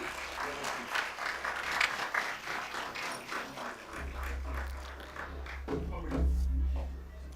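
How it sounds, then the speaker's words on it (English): Applause welcoming guests at a college science event inauguration, a dense crowd clapping that carries through the whole stretch with faint voices and low rumbles beneath. "Please welcome them with a round of applause"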